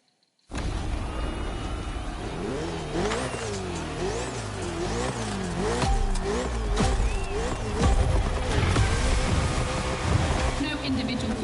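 A Ferrari race car in The Crew Motorfest racing game roars through repeated rising and falling gear shifts, its engine loud and close with a few tire squeals as someone talks over it.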